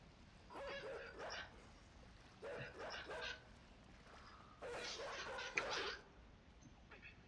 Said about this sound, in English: Okay, there's that dog again.